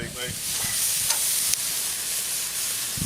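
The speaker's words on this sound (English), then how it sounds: "Oh, you guys got to hear the sizzling here." Food sizzles loudly in a hot pan, a continuous crackling hiss with a few brief clinks of stirring near the start.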